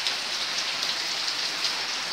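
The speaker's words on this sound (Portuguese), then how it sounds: "não tá dando devido muita chuva" Heavy rain pours steadily and loudly, a dense continuous hiss of drops on surfaces with no pauses and no talk.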